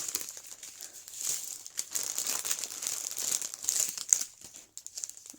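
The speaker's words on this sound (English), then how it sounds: "excuse the crinkling" Plastic bags of diamond art drills crinkle close up in bursts of bright, papery rustling as they are handled, with the crackle rising and falling for several seconds and no voices.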